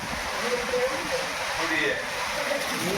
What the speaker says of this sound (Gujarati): આજો હજી વરસાદ ને મિની વાવાઝોડું ચાલુ છે હજી.